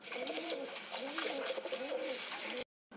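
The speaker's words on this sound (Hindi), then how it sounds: "कबूतर की गुटरगू" Soft, repeated cooing of pigeons, a steady rolling rhythm of low throaty calls over a faint background hiss.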